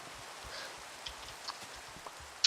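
Rain in the Minecraft video game falls as a faint, steady hiss with a few soft ticks and a small click near the end. No voices are present.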